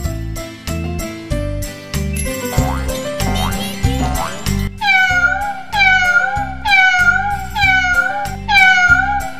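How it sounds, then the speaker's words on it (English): Cartoon cat meows, several bright rising-falling cries in a steady rhythm over a bouncy synthesized music bed, loud and close, from a children's animated show. "It's a sound of a cat."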